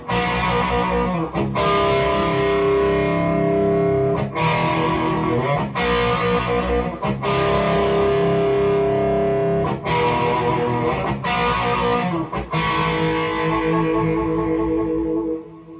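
Electric guitar played through a REVV G3 distortion pedal on its aggressive red setting with a little reverb, loud chugging chords and sustained crunchy strums ringing out in repeated phrases, with no voice over it.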